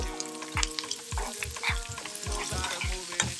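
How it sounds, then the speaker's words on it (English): Onion sizzles and fries in a pan for a South Indian kuruma, crackling steadily close up while it is stirred repeatedly in a regular rhythm, with no talking. "I'm adding a little bit onion."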